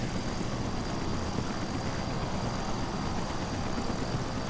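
A gyrocopter flies in the Kerbal Space Program video game, its rotor and engine making a loud, steady, unbroken whir with no variation.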